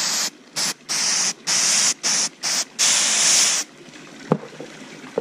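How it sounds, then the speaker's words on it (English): Several short bursts of aerosol flocking spray hiss in quick succession onto an artificial Christmas tree, close and loud, followed by quieter rustling and a faint tap. "you're just going to work all the way down the tree, just spraying from the top"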